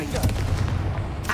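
A Confringo fire spell blasts in Hogwarts Legacy with a short, booming burst that rumbles for a moment before tailing off.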